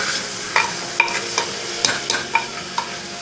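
Tomatoes sauté and get stirred in a clay pot while fish curry is being cooked, with a soft steady sizzle under repeated scraping strokes of a spoon against the pot at an uneven rhythm.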